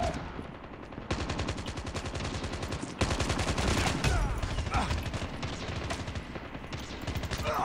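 Loud, sustained automatic gunfire from the mobile video game Call of Duty Mobile, in dense rapid bursts that run almost continuously, with a voice speaking underneath.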